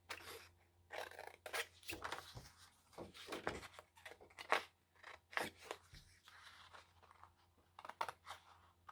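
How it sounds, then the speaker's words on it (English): Long scissors snip through paper in a series of crisp, close cuts, irregular in rhythm, with short pauses between bursts of crunching blade strokes. "I like to use my big long scissors. That way it's just one continuous cut"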